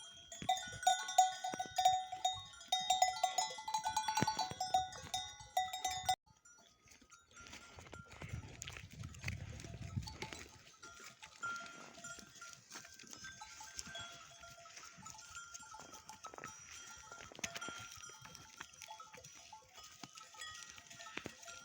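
A sheep flock grazing below the snowline on a highland pasture, with bells clinking steadily and close by, bleats faint, and a louder jangling stretch at the start.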